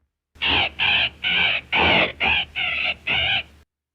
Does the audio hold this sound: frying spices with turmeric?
no